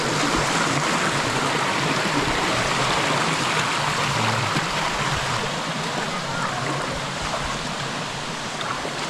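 Water rushing down a sticky waterfall, a loud, continuous broadband roar filling the whole stretch without pause.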